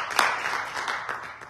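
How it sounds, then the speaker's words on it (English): Church congregation claps hands in praise, a scattered, moderately loud round of applause with a few sharper individual claps standing out, fading slightly toward the end. "Can we start out by giving the Lord a hand clap of praise?"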